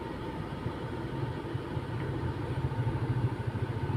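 A motorcycle engine rumbles low and throbbing on a street, growing louder and more pulsing toward the end as it approaches and passes nearby.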